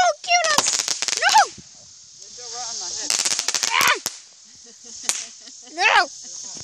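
Fireworks go off outdoors in a Fourth of July style backyard celebration. Bursts of crackling and whistling explosions come in clusters, with a constant high shrill hiss between them and excited voices in between.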